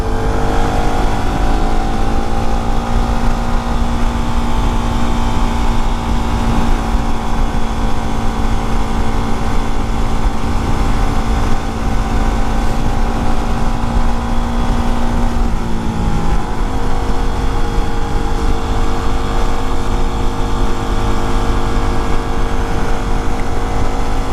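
A motorcycle engine drones steadily at cruising speed for a long stretch, with wind rush and one brief shift in engine pitch.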